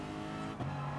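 GT3 race car engine droning steadily in GT Sport's FIA Manufacturers Cup on a short, tight track, a sustained tonal whine that drops in pitch partway through as the driver shifts or lifts.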